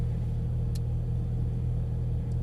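A car on a driving track at full throttle gives a steady, loud engine rumble, close and unbroken, with no talking.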